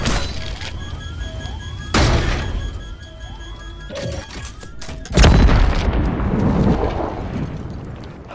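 Silver bomb fireworks burst in a series of sharp, loud bangs, some preceded by rising whistles, ending in a long crackling shower of sparkle.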